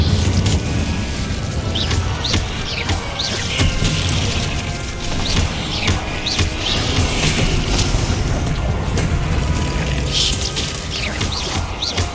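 Incendio fire spell cast in Hogwarts Legacy, a loud, continuous wash of booming, crashing and rattling effects lasting throughout with no break.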